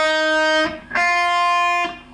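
Two sustained electric guitar notes from a solo ring out clearly and close, the first held and cut off, the second plucked and left to sustain, with no voices.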